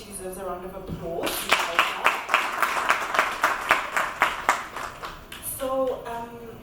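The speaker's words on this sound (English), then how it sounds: "I think she deserves a round of applause." Audience applause at a love and relationships gathering, a burst of rhythmic clapping that swells and holds for several seconds, with a voice speaking before it starts and again as it fades.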